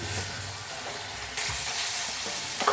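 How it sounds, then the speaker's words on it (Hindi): Minced meat frying with spices in a pan, a steady low sizzle with occasional stirring scrapes, close up, and a small clink near the end. "अब हम 2 मिनट के लिए दोबारा से मसालों के साथ कीमे की भुनाई करेंगे अच्छे से।"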